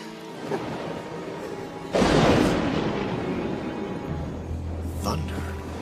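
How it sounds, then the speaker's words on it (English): Thunder under a clear, cloudless sky: a heavy rolling crash breaks in suddenly and rumbles on at length, loud and close, with a low steady drone beneath and a brief sharper sound near the end. "Thunder. Not a cloud in the sky."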